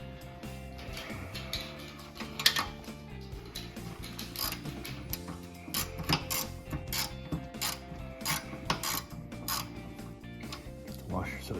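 Wrench loosening a bolt on a motorcycle during an LED light kit install: repeated ratcheting clicks and metallic clanks at close range, steady and moderately loud with brief louder knocks, no talk.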